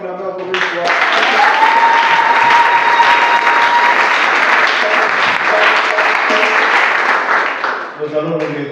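A church congregation applauds loudly and steadily for several seconds, the dense clapping swelling then tapering off, with a voice and music heard around it.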